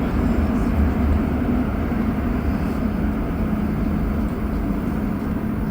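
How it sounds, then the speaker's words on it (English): A Montreal Metro train on the Orange Line near Sherbrooke station rumbles past, a steady loud low roar that fills the whole stretch without a break. "that train that just went by"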